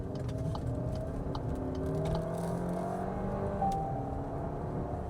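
A Skoda Kodiaq SUV engine accelerates, a steady low drone with gently rising tones heard from inside the cabin, moderately loud and continuous for about five seconds with no talk.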